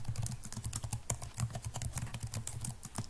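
Fast, steady typing on a computer keyboard while text is entered into a Word form, a close run of crisp, evenly paced key clicks with no talking.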